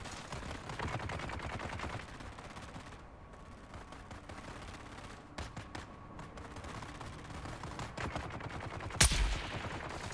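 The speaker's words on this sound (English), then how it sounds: "I'm on my poison sniper rifle, one shots those dudes" Poison sniper rifle fire in the Dune Awakening video game, dense clattering battle gunfire throughout with a sharper loud shot near the end.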